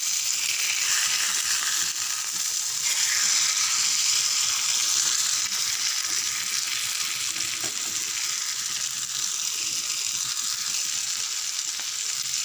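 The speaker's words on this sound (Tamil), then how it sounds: "பாதி மீன் குழம்புக்கு பாதி மீன் வறுக்கிறேன்" Sankara fish, coated in chilli powder, salt and spices, sizzles in a pan in a loud, dense, steady frying hiss that runs unbroken and close, with no voices over it.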